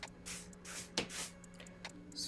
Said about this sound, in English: spray it on my finger